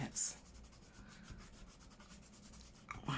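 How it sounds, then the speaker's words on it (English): Wet glue is rubbed off paper with soft, close rhythmic scuffing strokes, faint and continuous, with a sharp rustle at the start. "I just rub that bit of glue off now"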